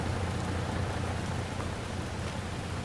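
Steady rain in the Silverrun Forest video game, a dense, continuous wash of falling drops with a low rumbling undertone, fairly close and even throughout, with no voices.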